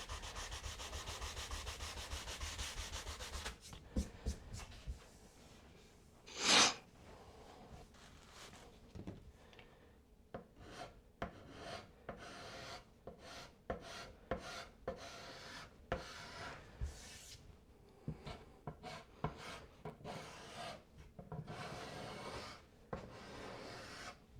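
Hand sanding of an old wooden window frame being restored, with irregular rubbing strokes of varying length, close and fairly quiet, plus a brief louder scrape partway through.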